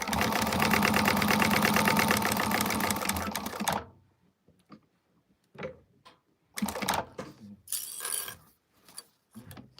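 A sewing machine stitching a seam on a fabric sling at a 1/8 inch seam allowance, a fast steady run for about four seconds, then stopping, followed by short bursts of handling clatter.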